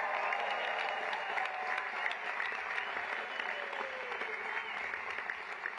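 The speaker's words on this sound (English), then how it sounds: "Can we have a round of applause for First Lady Melania Trump?" An audience at a charity dinner in New York applauds steadily, a close, full wash of clapping with faint murmurs that holds at an even level throughout.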